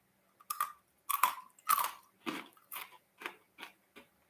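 Someone eats a hard, crunchy snack right at the mouth, producing a series of about eight loud, separate crunching bites in a steady rhythm with quiet gaps between them and no talking.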